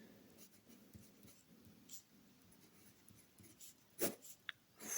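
Pen writing on paper while working through an exponential math problem, soft faint scratching strokes in short bursts close by in a quiet room, with a couple of brief sharper ticks near the end.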